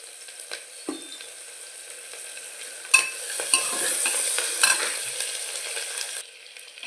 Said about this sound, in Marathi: 1 मिनिटभर आपल्याला कांदा परतायचा आहे